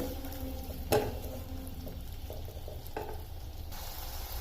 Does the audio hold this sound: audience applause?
no